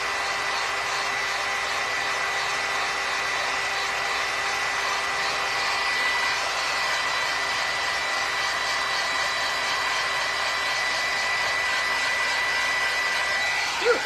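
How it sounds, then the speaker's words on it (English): A heat gun blows hot air steadily over a handmade Halloween raven book project, a continuous close whooshing hiss with a faint tonal whine, unbroken for the whole stretch until a small bump at the very end. "don't put your heat gun too close or you're gonna bubble it"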